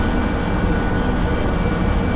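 Constant loud rumbling from a train running in Derail Valley, a dense low-heavy roar with a thin tonal whine above, steady throughout and near, no voices present.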